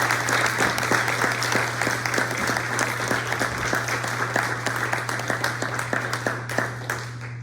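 An audience applauds at the close of an evening presentation, with individual claps standing out in a brisk, even patter over a steady low hum throughout.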